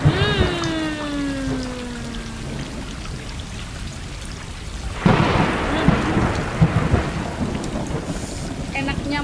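Rain pours throughout a thunderstorm in the video game Stray, with a faint fading tone at the start and a loud crack of thunder about halfway through, followed by heavier rumbling rain.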